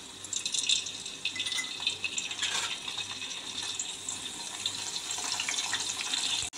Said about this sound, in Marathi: आता ह्याच्यामध्ये हे मिठाचं पाणी ह्याच्यामध्ये 1 चमचा घालून घ्यायचं आहे.